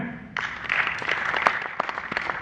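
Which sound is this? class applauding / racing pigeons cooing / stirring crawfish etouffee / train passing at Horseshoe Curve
class applauding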